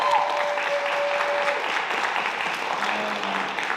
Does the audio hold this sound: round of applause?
yes